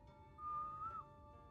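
A single short whistled note, held and sliding slightly upward before stopping, clear over a quiet game background.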